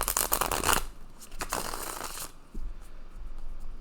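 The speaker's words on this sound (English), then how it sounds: "I shuffle the cards as much as possible" Tarot cards riffle and snap in quick bursts, two close, crisp shuffles separated by brief pauses, followed by softer handling, with no speech.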